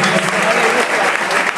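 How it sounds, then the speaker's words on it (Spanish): A loud, dense burst of applause rises from the crowd at a school graduation ceremony, continuous and close, with voices mixed into the clapping. "Un fuerte aplauso para"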